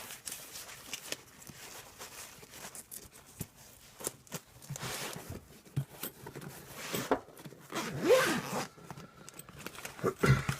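Zipper on a Justincase Premium Travel Pro roadside emergency kit bag pulled open in several quick rasping strokes, close and fairly quiet, with light handling rustle around it.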